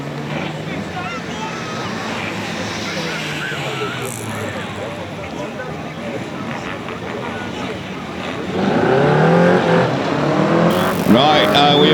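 Race cars at a circuit pull away from a rolling start, a continuous engine roar that swells louder near the end, with a commentator talking over it throughout.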